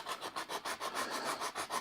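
Silver foil rubbed back and forth over a rust-spotted panel, an even, close scrubbing rasp repeating in a regular rhythm about four strokes per second, with no talking.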